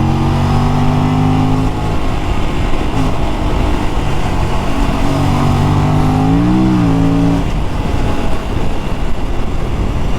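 Aprilia RS 457 sports motorcycle accelerating, the engine loud and close with a rising whine that sweeps up and settles through gear changes under steady wind noise.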